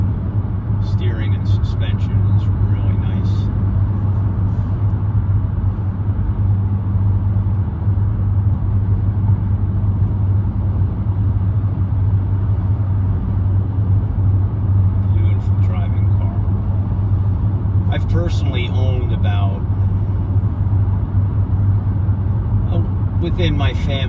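A 1997 Mercedes E290 turbodiesel with a five-speed manual cruises at highway speed of about 125 km/h, giving a steady, loud low rumble of engine and road noise throughout, with someone talking over it.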